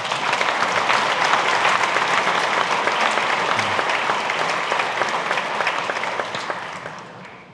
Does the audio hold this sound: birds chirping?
no